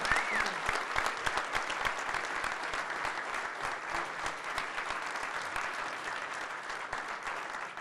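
Sustained applause from a large crowd at a labor federation convention, dense clapping at a steady loud level throughout with no pauses.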